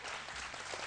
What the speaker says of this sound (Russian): Ваши аплодисменты, поздравляю вас